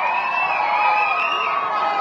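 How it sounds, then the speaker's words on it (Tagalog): Festive crowd of overseas Filipino workers in Singapore shouting and cheering together, a continuous dense roar of many voices with some higher whoops, steady and loud throughout. "Sigawan eh."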